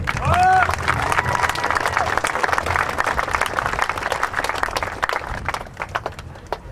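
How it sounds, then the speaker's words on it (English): An audience at an F-22 Raptor arrival ceremony bursts into sustained applause, dense clapping with some cheering and a short whistle near the start, steady and loud throughout. "So I want to give a round of applause for all of you"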